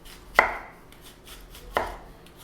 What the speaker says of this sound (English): I'm going to just cut across the onion on the horizon.